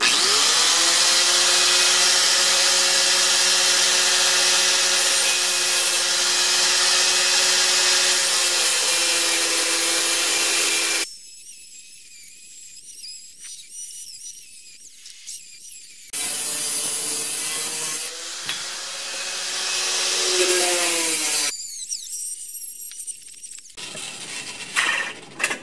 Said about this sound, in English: I'm going to cut it off with the angle grinder so I can turn this into a crucible for aluminum casting